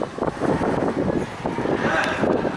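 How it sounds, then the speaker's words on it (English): Strong outdoor wind buffets the microphone in continuous gusty rumbles, loud and close throughout. "I don't know if you can hear me or not, it's so windy"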